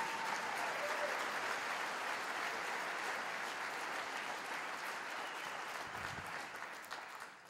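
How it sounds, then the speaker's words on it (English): Steady, full applause from a comedy festival crowd greeting a comedian, a dense continuous wash of many hands clapping that holds evenly and tapers slightly at the end. "Give him a nice round of applause."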